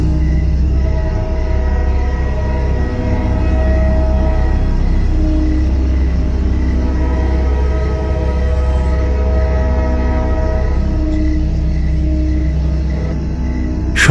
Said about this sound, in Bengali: দূর থেকে ট্রেনের হর্নের শব্দ ভেসে আসছে।